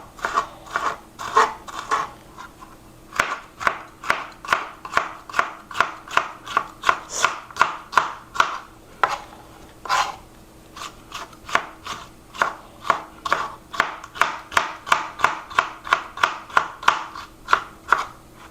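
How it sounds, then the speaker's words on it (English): A knife slices scallion garnishes on a cutting board in a steady, rapid run of crisp, evenly spaced chops, close and clear with only brief pauses. "now we'll be going into the slicing of these"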